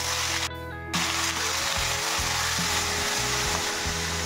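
Whole spices for tempering crackle and sizzle in hot mustard oil in a pan while punka greens and potato are cooked, a steady frying hiss with light stirring scrapes throughout, close and fairly loud, no talk.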